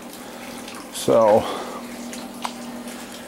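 Water drains steadily from a hot water heater in a basement as a continuous low rush, with a brief spoken word partway through.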